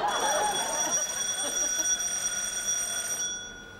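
Front doorbell of a house in a British sitcom, a bright electric bell ringing continuously for about three seconds before cutting off, fairly loud with no talk over it.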